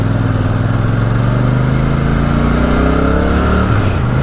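A 2023 Royal Enfield Super Meteor 650 motorcycle's engine drones loud and close, its harmonic note gradually rising in pitch as the bike accelerates, with no voices over it.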